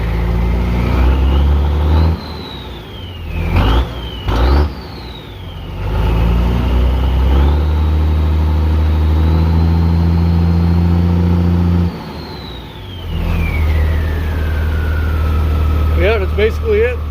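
A 1968 M35A2 "Deuce and a Half" military truck's heavy diesel engine revs up close by, pitch climbing and holding high, dropping back, then rising again before settling to a lower idle.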